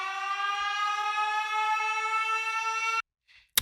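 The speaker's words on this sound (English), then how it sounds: "there's this siren." A siren sample chopped up inside a music track wails as a steady, loud, sustained tone for about three seconds, then cuts off abruptly, leaving a brief faint blip and a sharp hit at the end.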